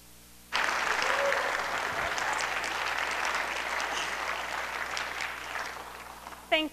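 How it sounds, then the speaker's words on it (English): Sudden applause from a lecture audience, steady clapping that carries on for several seconds before fading and cutting off. "Thank you so much for the attempt at a slow clap right there."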